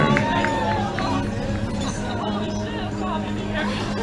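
Outdoor crowd at a race cheer station, shouting and cheering on runners at the Squamish race finish area, a steady broad din of voices with traffic noise underneath.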